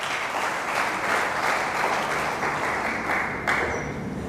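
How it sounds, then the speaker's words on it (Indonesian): A church congregation applauds for a few seconds, a dense, steady wash of many hands clapping together in a large hall. "Mari kita beri tepuk tangan untuk Tuhan dulu"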